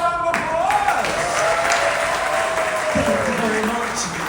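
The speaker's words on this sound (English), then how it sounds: "Let's give a round of applause." An audience gives a round of applause at a Celtic Fyre show, with a dense, steady wash of clapping over a few seconds as voices call out underneath.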